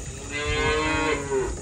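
A single long, low moo from a cow, fairly close and clear, rising and then falling off over about a second.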